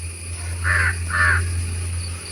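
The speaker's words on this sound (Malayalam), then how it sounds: "തെങ്കിൻ്റെ മണ്ടയിലിരുന്നൊരു കാക്ക വിരുന്ന് വിളിച്ചു" A crow caws twice in quick succession, clear and fairly near, from atop a coconut tree, over a steady low background hum.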